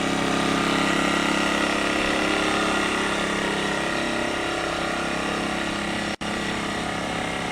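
An Earthquake IG800W 800-watt inverter generator runs in eco mode a few feet away, among hard surfaces. It makes a continuous, fairly loud engine drone with a steady low hum that holds throughout, broken only by a brief dropout near the end.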